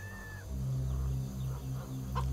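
Kittens meow in the video game CHKN, a few faint high mews near the start and end over a steady low musical drone.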